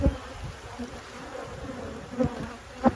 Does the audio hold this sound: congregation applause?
no